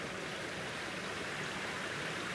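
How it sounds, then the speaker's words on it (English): River water flowing steadily through a wooded spot in Philadelphia, a dense, even rushing wash heard close and fairly loud throughout, with no voices. "the river."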